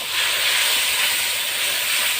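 Marinated meat going into a hot spice paste for a Bengali-style kosha mangsho, giving a loud, steady broadband sizzle that hisses evenly throughout, with no voices.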